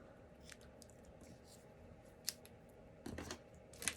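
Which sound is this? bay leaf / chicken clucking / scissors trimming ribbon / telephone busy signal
scissors trimming ribbon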